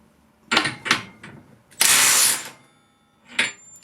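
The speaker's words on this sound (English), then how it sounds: "We will now go through the nut loosening settings on the 18 volt and see how she does" A Makita 18V cordless impact wrench on its first nut-loosening setting fires in short hammering bursts: two quick pulses, one longer sustained rattle, then a final brief burst, each loud and close with quiet gaps between.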